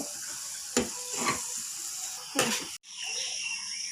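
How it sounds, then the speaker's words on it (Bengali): Jackfruit fritters fry in hot oil with a steady, close sizzle, broken by a few sharp clatters as pieces are moved or lifted out, and the tone shifts near the end. "নামিয়ে নিচ্ছি এরকম করে প্রতিটা বড়া আমি ভেজে নেব"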